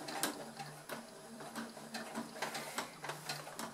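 A sewing machine sews slowly along a visible seam on a velvet handbag, giving quiet, irregular ticking needle strokes over a faint motor hum.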